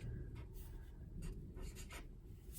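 A pen writes by hand in a paper planner, making faint, close scratchy strokes in short bursts with brief pauses between them, very quiet throughout.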